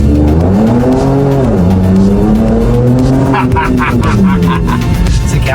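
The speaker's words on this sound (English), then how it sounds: "Se queda pegado patinando, ¿no viste?" A 2024 Ford Ranger Raptor with Stage 2 tuning and stock turbo and engine spins and skids its tires, a loud continuous engine drone with rising and falling revs and tire squeal close by, while people talk over it.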